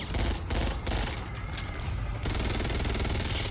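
A Vector SMG fires in a video game in rapid, continuous bursts. The gunfire is loud and sustained, with brief dips between volleys.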